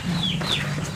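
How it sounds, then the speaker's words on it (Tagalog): Chickens cluck briefly against a steady background hum, moderately close, in a short burst with no speech. "May mga manok pala kayo diyaang alaga"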